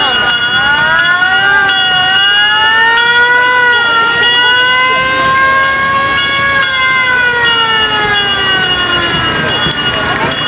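Volunteer fire brigade fire engine in a regional parade sounds its siren, a loud wailing tone rising and falling steadily throughout, close by and continuous, with periodic sharp clicks and crowd noise beneath.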